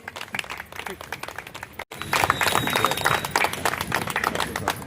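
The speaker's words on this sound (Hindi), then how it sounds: "तालियों की कमी नहीं होनी चाहिए।" An audience claps at a welcome ceremony in Raipur for the labour welfare board vice-chairman, a dense patter of hands that swells and continues steadily, with voices mixed in.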